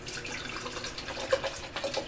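Cold tap water running into a bushcraft cook pot, a steady splashing stream with faint dripping, close by and fairly quiet, with no talking.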